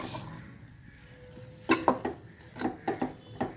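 A few utensil scrapes and knocks against a pan as pasta is stirred, sounding in short close clusters after a quiet stretch.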